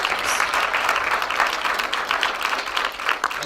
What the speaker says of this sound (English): You clap properly.